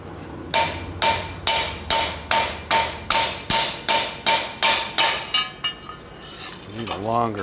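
A blacksmith hammers a metal plate meant for the front edge of a door, stretching its middle: about a dozen loud, ringing blows in a steady rhythm, close by, then a brief clatter and a faint voice at the end.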